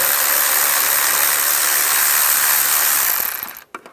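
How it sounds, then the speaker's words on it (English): A ratchet fitted with a 10mm socket loosens worm-drive hose clamps on the intake snorkel of a 1996–2002 Toyota 4Runner: a loud, close, continuous rasp that stops abruptly near the end. "Using a 10mm socket, we're going to loosen up the worm clamps."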